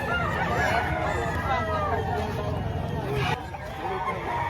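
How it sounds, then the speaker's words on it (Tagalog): Chickens and roosters at a busy poultry market in Padre Garcia, Batangas, crowing and clucking amid a crowd's babble, with people talking close by. "Kasi magandang panahon kaya ang daming mga manok na dumating."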